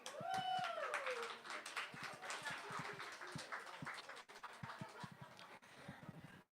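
An open mic audience at The V-Spot in Scranton claps in a loose, moderately close patter of individual hand claps that thins out over several seconds, with a brief voice at the start.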